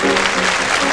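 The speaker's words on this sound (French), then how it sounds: "et on applaudit" Studio audience applauding on a French television show, a dense, steady wash of clapping that fills the whole second at close range with no gaps.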